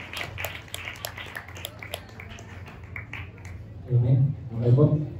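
A church audience claps, a steady patter of many hands heard under a person speaking, then the talk swells louder toward the end.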